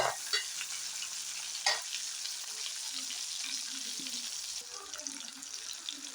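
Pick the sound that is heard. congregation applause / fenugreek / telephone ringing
fenugreek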